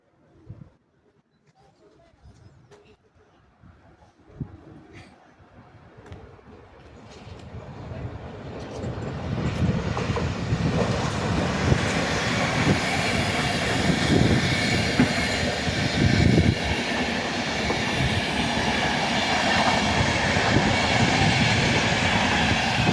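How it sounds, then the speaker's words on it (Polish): A Husarz locomotive hauling the Berlin-Warsaw Express approaches Warszawa Włochy station and passes through, building from faint distant rumble to a loud, sustained roar with clattering wheels and rail noise. "No i mamy przelot husarza ze składem BWE Berlin Warszawa Express."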